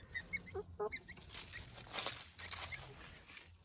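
A frizzle rooster from a French poultry flock gives a few short clucks early on, with quieter farmyard fowl and faint background murmur around it.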